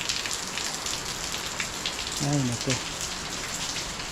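Rain falls steadily outdoors with a constant, even patter and hiss throughout, and a brief voice exclaims partway through.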